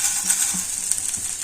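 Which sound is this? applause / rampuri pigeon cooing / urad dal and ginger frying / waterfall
urad dal and ginger frying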